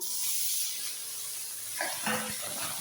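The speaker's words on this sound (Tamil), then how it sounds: "தக்காளி சேர்த்து நல்லா வதக்கிடலாம் தக்காளி நல்லா வதங்கி வரட்டும்" Faint, soft sizzling of tomatoes cooking in a pan, a low steady hiss with a few brief clinks and stirring sounds.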